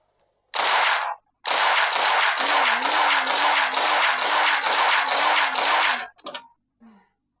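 A rapid string of loud, evenly spaced gunshots bursts out after a single opening shot, then stops with a couple of faint trailing clicks.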